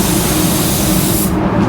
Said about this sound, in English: just spraying some 3-stage blue.